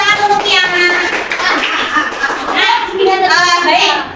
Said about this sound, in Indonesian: Berikan tepuk tangan untuk Tiana